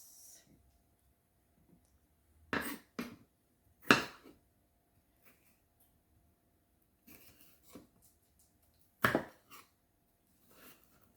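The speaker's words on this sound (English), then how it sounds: "I'm going to slice them into pieces like this" A knife slices through food on a cutting board in a home kitchen while preparing Chinese rice and beef sauce, giving a few sparse, soft cuts and taps at uneven intervals against a quiet background.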